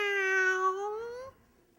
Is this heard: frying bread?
no